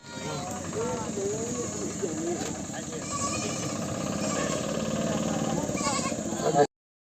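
At a goat market, goats bleat repeatedly, wavering and fairly close, over a busy crowd hum and nearby chatter.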